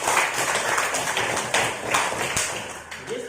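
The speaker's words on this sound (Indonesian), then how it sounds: "Tepuk tangan dulu semua." A classroom of students claps hands together, a scattered, uneven burst of taps and claps at moderate loudness that thins out toward the end.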